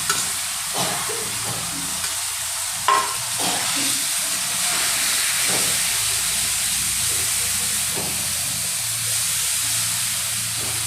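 Grated radish paratha filling cooking in a pan, with a steady hissing sizzle and a few spoon knocks and scrapes near the start, continuous and close.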